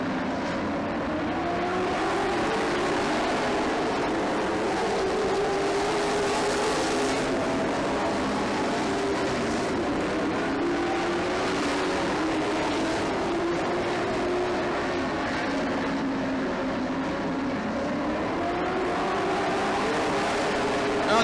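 Race cars lapping a track, a bunched pack of engines droning and whining as they sweep past at a distance, the pitch rising and falling continuously at moderate loudness while an announcer talks faintly underneath.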